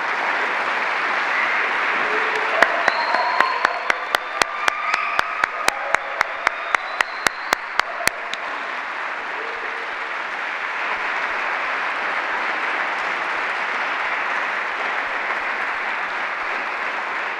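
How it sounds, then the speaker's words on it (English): An audience at a symposium applauds in a steady, even wash of many hands, with a few louder, sharper nearby claps standing out early on, then the clapping continues evenly to the end. "I would like you all to give her a round of applause"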